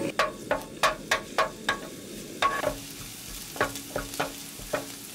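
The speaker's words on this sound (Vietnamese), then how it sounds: "Cho vào chảo 1 muỗng canh dầu và mình cho 1 muỗng canh hành tỏi vào phi thơm." Shallots and garlic frying in a spoonful of oil in a pan, a soft sizzle under sharp, regular taps of a utensil stirring against the pan, nearby and fairly loud.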